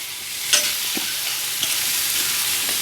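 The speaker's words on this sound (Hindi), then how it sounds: "अब इसमें हम टमाटर जो हमने कट करके रखा था इसको डाल देंगे और इसको अच्छी तरीके से हमने भून लेना है।" Chopped tomato fries with onion, ginger and garlic in a pan, a continuous close hiss of sizzling oil with a couple of brief stirring scrapes.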